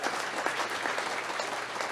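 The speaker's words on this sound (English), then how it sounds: "How about a round of applause for the IBEW and LiUNA?" An audience at a social democracy event applauds the IBEW and LiUNA sponsors in a brief, even wash of clapping that stays steady and fairly loud.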